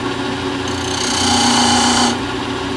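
A skew chisel cuts wood on a lathe, giving a loud steady scraping whir over the motor's hum for about a second before easing off.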